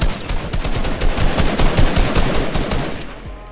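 Sustained automatic gunfire in Fortnite rattles in a fast, dense stream of loud shots for several seconds, fading slightly toward the end, with no talk over it.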